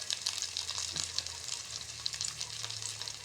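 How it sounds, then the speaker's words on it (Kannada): Onions fry in a pan with curry leaves and green chili, giving a steady bright sizzle with crackling bursts and an occasional stir, close up and without speech. "ಈರುಳ್ಳಿ ಎಲ್ಲ ಫ್ರೈ ಆಗ್ತಾ ಇದೆ"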